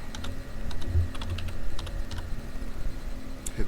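Rapid typing on a computer keyboard while entering a sheet name in Microsoft Excel, with close, irregular clicks in short bursts and steady pace, no voices.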